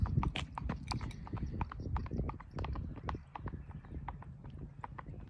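A seven-year-old gaited saddle horse named Birdie travels down a road, its hooves clip-clopping in a quick, even rhythm at close range, moderately loud and continuous.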